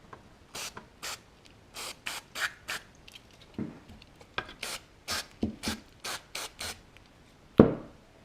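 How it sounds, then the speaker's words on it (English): Switch cleaner sprayed from an aerosol can into the switch of a Lafayette TM-16A field strength meter, heard as a series of short, sharp hissing bursts in quick succession with small clicks and a louder knock near the end. "Just empty all the switch cleaner out."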